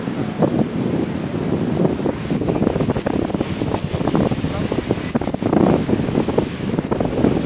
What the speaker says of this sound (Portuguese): Não sei se vocês vão escutar bem a minha voz por causa do vento, aqui venta muito